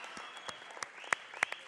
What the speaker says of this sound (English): gets the applause from the home crowd